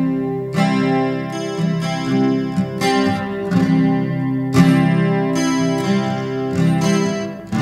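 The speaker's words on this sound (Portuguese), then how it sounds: "Se eu aplicar um reverb aqui então, vai ficar mais bonito ainda." Plucked string music rings out with a washy reverb added in Audacity, each note trailing into a lingering echoey tail; no voices.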